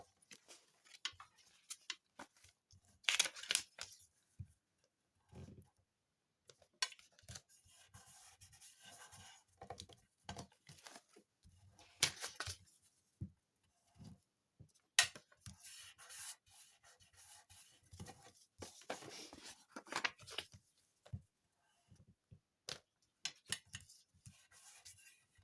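Glue stick being rubbed across kraft paper to close four envelopes, with soft repeated rubbing strokes, papery rustles and small taps, close but quiet, spread over a long stretch with brief gaps.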